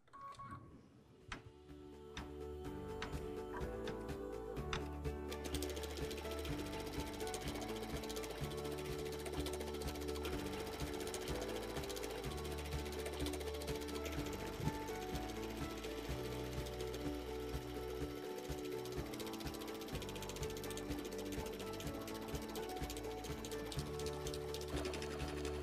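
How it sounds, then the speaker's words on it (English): An embroidery machine stitches a blanket stitch around a teacup design in a hoop, a loud, steady mechanical whirring and rapid needle clatter running continuously and close after a brief start-up. "we're going to be ready to go ahead and do our blanket stitch on the teacup"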